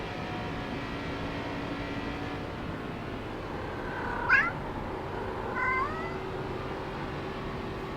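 A cat meows from behind the driver inside a car, two distinct plaintive meows a second or so apart, heard over a steady low engine and road drone.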